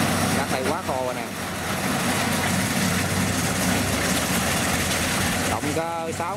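A combine harvester on a rice field in Phu Tan, its cutter engine upgraded to a DC70, idles with a loud, steady low rumble throughout, with a voice speaking over it.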